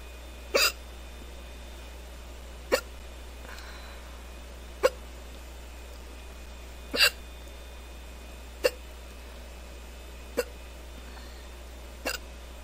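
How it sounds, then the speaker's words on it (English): A person hiccups seven times over about twelve seconds, sharp isolated hiccups spaced roughly two seconds apart against a quiet room hum. "I'm surprised I got the hiccups so quickly this time."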